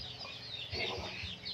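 Chickens on a rural Lao rice-farming homestead cluck in a few low, throaty pulses close by, set against a steady outdoor background of insects and ambient noise.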